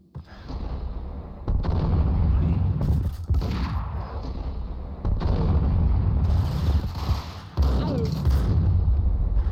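A grenade detonates in the video game Max Payne, heavy booming blasts and rumbling gunfire-like bursts rolling through a loud, dense game soundscape.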